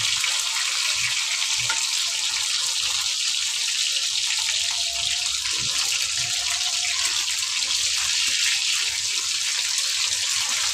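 Fish sizzling in a pan over a low flame, a steady dense hiss of frying oil with faint crackles running throughout, close and even in level.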